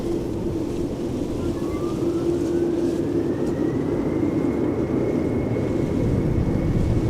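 An Air Canada airliner on approach at Amsterdam Schiphol Airport gives a steady, loud engine roar with a slowly rising whine, blended with wind rumble across the whole stretch.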